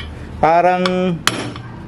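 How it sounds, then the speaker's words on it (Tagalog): A hammer strikes a swing arm bearing being driven into a scooter, giving one loud ringing metallic blow that hums for nearly a second, then two sharper, shorter taps, close up, with a single word spoken. "So pagka pinupukpok nyo, malalaman nyo na sagad na siya kasi nag-iiba yung tunog."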